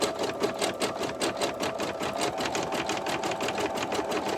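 A machine embroidery unit stitches an in-the-hoop zipper face mask along an elastic edge, giving a loud, steady, rapid mechanical whir and needle chatter that continues without a break.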